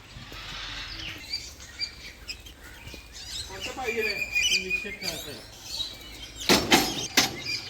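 Birds chirp and tweet in scattered bursts at a bird point in Daman, with a cluster of sharp, louder calls near the end, over faint background noise.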